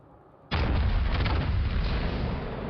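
A heavy naval gun blast from a battleship in World of Warships Legends, a sudden loud boom that erupts and then rolls on as a sustained, dense rumble with no voices over it.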